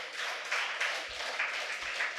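An audience claps at a spiritual music and meditation gathering, a steady, moderately loud wash of applause that swells in waves and carries on throughout without pause.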